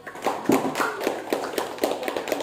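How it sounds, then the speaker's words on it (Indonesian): A small classroom group claps in a physics lesson, a sparse, uneven patter of separate hand claps close by rather than a full crowd roar. "Ya, tepuk tangan untuk Adit."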